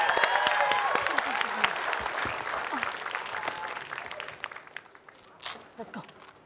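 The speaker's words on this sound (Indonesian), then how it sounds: "Tepuk tangan dulu dong untuk Wai God." Audience applause breaks out for a performer named Wai God, a dense wash of clapping that stays loud for several seconds before thinning out toward the end, with voices mixed in.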